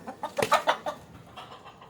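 A chicken clucks close by in a short series of sharp, rhythmic calls that quickly fade.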